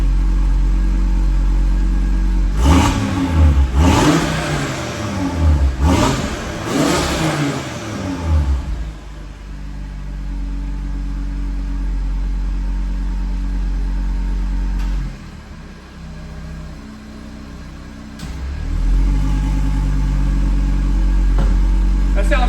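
An Audi RS3 8Y fitted with a downpipe, its exhaust valves open, gives several sharp, loud revs in quick succession, then settles into a deep, rumbling idle with another blip near the end.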